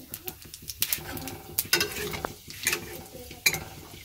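Panch phoron spices go into a hot pan of oil for a paneer dish, crackling and sizzling up close, with scattered sharp pops and the scrape of a spoon stirring through the pan.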